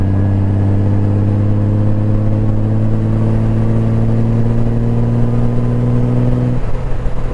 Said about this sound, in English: I'm not one for loud exhaust, but I'm kind of getting hooked on this sound